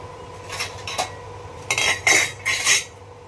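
Sesame seeds and peanuts dry-roasting in a pan, stirred with a metal spoon, giving a few rattling, scraping bursts, close and fairly loud with no speech.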